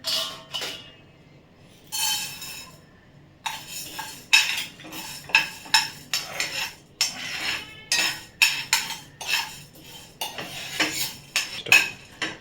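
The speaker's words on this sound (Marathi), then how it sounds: "चण्याची डाळ आता ओतत आहे" Dry chana dal lentils are poured into a pan over roasted moong dal, making a run of close, crisp rattling clatters and ticks that come in uneven bursts, with short quiet gaps between them.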